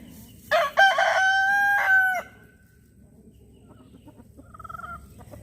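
A rooster crows once, a loud drawn-out call close by, followed by fainter clucking from fowl in the background.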